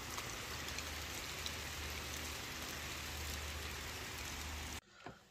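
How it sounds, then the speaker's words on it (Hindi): Heavy rain pours down at dawn in a village, with water pooling on the ground below: a dense, constant hiss of falling drops that holds steady for nearly five seconds before cutting off abruptly. "आज आप देख सकते हैं कि सहरे के टाइम कितनी ही तेज़ बारिश शुरू हो गई है और पानी जमा होना शुरू हो गया"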